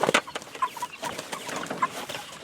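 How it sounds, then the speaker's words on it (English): Chickens on a farm, several close, bursty clucks and short squawks in an irregular rhythm over a quiet background, with no talk. "These birds are going to clean up every little morsel that's out here."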